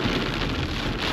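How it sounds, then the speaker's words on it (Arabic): Heavy rain pours down steadily high in the mountains, inside the clouds, a dense, loud, continuous hiss of drops with no pauses and no voices. "غزارة مطر ما توصف"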